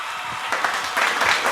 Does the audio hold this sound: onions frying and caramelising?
no